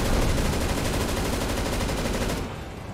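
Sustained automatic gunfire in a CS:GO co-op mission, a dense unbroken rattle of rapid shots that is loud and close, then drops away sharply just before the end.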